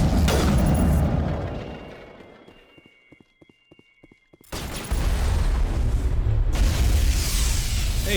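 Grenades explode in the video game Mass Effect: loud rumbling blasts fade into a near-silent pause with faint ticks, then another heavy burst erupts and roars on.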